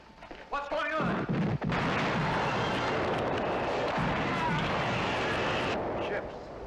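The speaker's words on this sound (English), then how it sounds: "Ships. They simply explode." Ships exploding in a film: a massive, sustained roar of blasts and rumbling debris that swells up after a few brief sounds and holds loud for several seconds before easing off.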